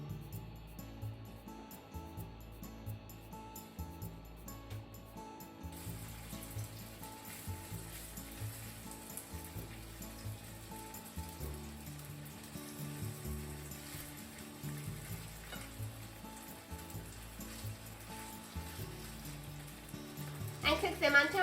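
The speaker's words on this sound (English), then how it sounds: "Now, it's time to pan fry them. Heat up sesame oil in the frying pan over medium to medium-high heat." Onigiri rice balls pan-fry in sesame oil over medium-high heat, sizzling quietly and steadily in the frying pan under a softly pulsing background, with a louder burst right at the end.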